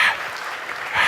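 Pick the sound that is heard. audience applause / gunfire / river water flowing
audience applause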